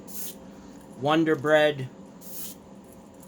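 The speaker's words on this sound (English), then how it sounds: "we're going to spray our glow color on there as well." Spray gun misting glow paint onto a custom Wonder Bread pattern rattling fishing lure, short soft hissing bursts at the start and near the end, with a brief stretch of talk in between.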